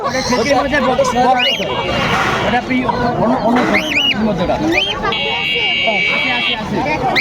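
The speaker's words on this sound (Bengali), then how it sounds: "নিচের গুলা কি মুরগি?" Chickens and other birds call repeatedly at a busy bird and pet market in Khulna, with sharp clucks and squawks mixed into a steady crowd babble and close conversation.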